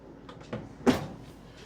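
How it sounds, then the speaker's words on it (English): A small pull-out drawer in a 2024 Cruiser RV Avenir 17BH lightweight travel trailer slides open with a couple of soft knocks and a sharper wooden clack, close and brief in a quiet interior. "You got a little pull-out drawer here."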